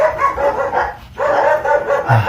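Several dogs bark loudly and close by in quick, repeated bursts, broken by a brief pause midway before the barking resumes.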